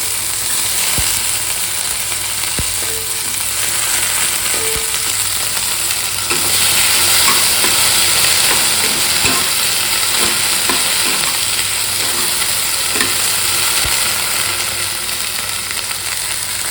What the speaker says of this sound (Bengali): আজকে রান্না করছি ভেন্ডি ভাজা